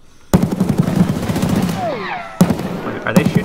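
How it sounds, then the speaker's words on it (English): Gunfire in the shooter video game Escape From Tarkov, loud and close, with rapid bursts that start abruptly, a second burst later on, and a voice talking over the shots. "Wait, are they shooting each other?"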